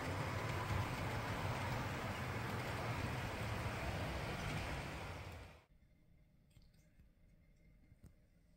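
A model railway train on a layout controlled by a physical knob throttle runs in reverse with a steady, close rolling rumble and rattle, then cuts off abruptly partway through, leaving near silence.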